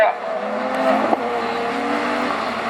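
A rallycross race car pulls away at a French championship round at Lessay, its engine note rising briefly and then settling into a steady drone with a faint tire squeal, while a commentator talks over it.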